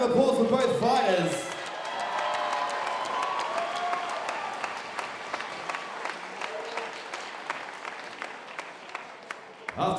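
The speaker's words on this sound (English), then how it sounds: "please a big round of applause for both fighters" Audience applauding and cheering for two Muay Thai fighters at a Rebellion Muaythai event, a loud burst of clapping and crowd noise with some voices that settles into sustained, steady applause across the arena.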